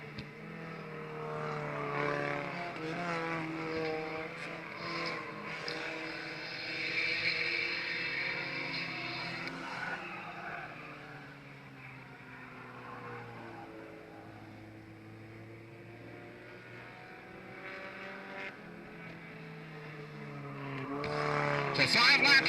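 Four-cylinder race cars circling a track in a ten-lap qualifier for novice drivers, a distant wavering engine drone rising and fading as they pass, partly under a public-address announcer's voice.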